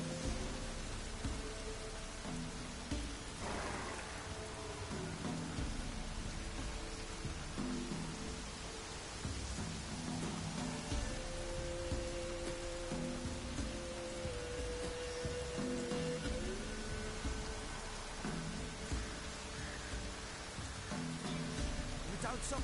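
Continuous rainfall hisses evenly throughout, with low murmuring sounds and faint tonal background beneath.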